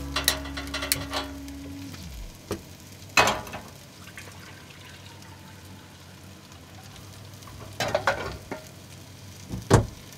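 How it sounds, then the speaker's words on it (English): Beef broth heating in a pan with caramelized onions on a cold night of truck camping on the Washington coast: a quiet steady sizzle broken by occasional clinks and stirring scrapes, with a low steady hum fading out early. "I'm gonna start heating up some of our beef stock, or beef broth."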